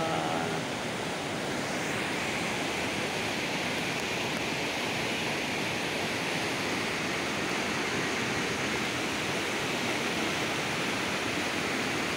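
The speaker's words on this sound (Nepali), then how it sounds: "यो पनि खोलाहरू ठुलै छ यसपालि। खोला बढेको छ" A swollen river rushes past in a constant, dense roar of water, loud and unbroken throughout, with no voices heard.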